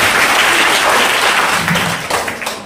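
An audience at a school summer camp programme claps together in sustained, dense applause that stays loud and even before tapering slightly at the end.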